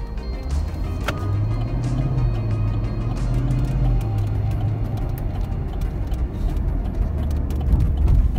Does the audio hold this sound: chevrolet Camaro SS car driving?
yes